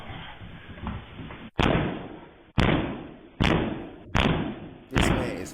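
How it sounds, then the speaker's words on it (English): Doors in New York City being kicked hard: five loud, booming thuds land about a second apart, each ringing off briefly before the next blow, with no talk over them. "This man is 50 kicking doors"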